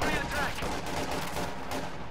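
A stun grenade goes off in the Company of Heroes 2 battlefield amid dense, continuous gunfire and combat noise. Nothing stands out as a single separate blast.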